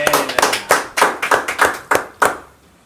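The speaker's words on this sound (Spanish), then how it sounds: "un aplauso para Rodrigo" A small group claps hands briefly, uneven bursts of claps fading out after a couple of seconds.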